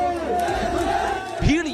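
A large crowd at a Samajwadi Party political rally in Unnao, many wearing red caps, makes a dense, steady roar of massed voices with scattered shouts rising near the end.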